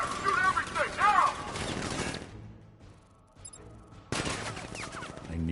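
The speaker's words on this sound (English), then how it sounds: "Open fire! Shoot everything! Now!" Gunfire from turrets and guards in Batman: Arkham Knight, loud bursts of rapid shots that drop away into near silence midway before another burst starts, with shouted game voices over the opening.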